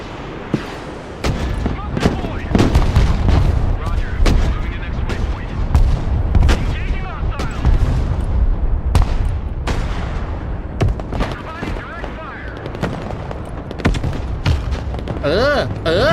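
Heavy gunfire in the video game Broken Arrow: rapid booming gunship shots and cannon blasts pound continuously, with a voice speaking intermittently over the barrage.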